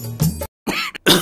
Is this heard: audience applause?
no